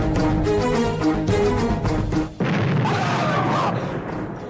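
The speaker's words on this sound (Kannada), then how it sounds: "ಈರುಳ್ಳಿ ಒಳಗೆ ಟೈಮ್ ಬಾಂಬ್ ಬಿಟ್ಟಿದ್ದಾರೆ." A booming crash marks a time bomb explosion in a Kannada TV serial, arriving after a stretch of dramatic music and rumbling off into noisy debris.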